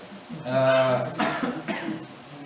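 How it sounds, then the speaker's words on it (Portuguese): A person with an allergic cough gives a couple of close, rough coughs, and a throaty, voiced sound runs into them. The room is quiet apart from the coughs. "Estou com uma tosse alérgica, então vou ficar tossindo um pouquinho."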